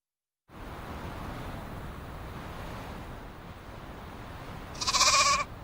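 Steady wind-like outdoor noise runs throughout, then near the end a sheep bleats once, loud and fairly close, a short wavering cry rising above the background.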